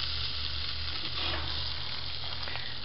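Burgers sizzle on a small charcoal grill in a constant, even hiss of fat and meat with faint crackles, with no voices over it.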